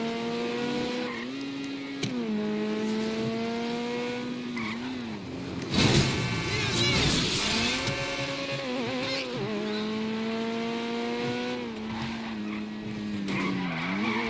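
A car in GTA 5 roars along, its engine note climbing and falling through gear changes, with a loud burst of tire skidding partway through and more brief squeals later.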